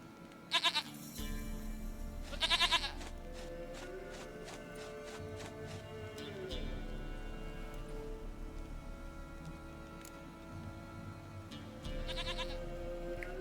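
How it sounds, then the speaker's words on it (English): Goat bleats from The Witcher 3, quiet repeated calls over a steady game ambience with a few sharp clicks, no talk. "Goat of mine, dearest,"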